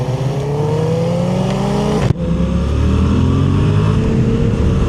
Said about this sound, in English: A nice sounding exhaust.